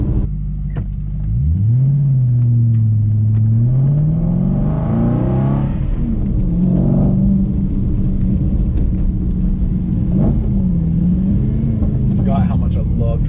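Aston Martin with a 6-speed manual gearbox and ECU tune, engine rumbling steadily while driving, rising and falling in pitch as it revs through gears, with a person talking over it throughout.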